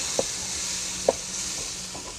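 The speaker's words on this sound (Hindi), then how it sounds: "बस इसी में अच्छी तरह से मटर को फ्राई करेंगे" Peas being fried for mattar pulao hiss with a gentle steady sizzle, punctuated by two sharp clinks of a spoon against the pot and a few softer scrapes as they are stirred.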